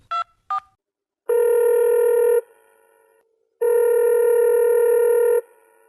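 A telephone keypad beeps two quick dialing tones, then two long electronic ringback tones sound loud and clear with a gap between them, in a Malayalam drama scene.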